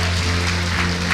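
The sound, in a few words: church congregation applauding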